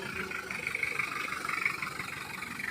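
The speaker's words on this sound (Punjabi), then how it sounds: "ਟਰੈਕਟਰ ਵੀ ਆ ਗਿਆ ਜੇ।" A Tractor 240 on a farm runs with a low, rhythmically pulsing engine note that holds steady throughout and sounds moderately near and fairly quiet.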